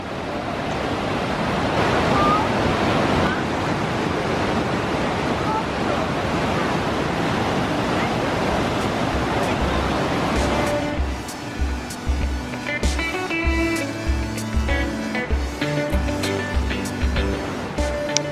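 The Niagara River rushes past at Niagara Falls on the border between Canada and New York State, a loud, dense roar of fast, deep water, joined later by low rumbling thumps.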